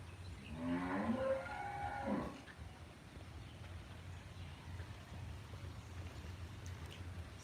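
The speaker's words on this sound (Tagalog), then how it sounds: "Ayan yung baka, inga ng inga" A cow moos in a long, drawn-out call lasting about two seconds, fairly close and loud, followed by a steady low rural background hum with no other calls.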